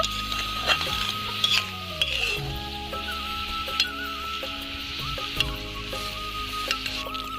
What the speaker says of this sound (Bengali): চিনিটা ভালো করে মেল্ট করে নেব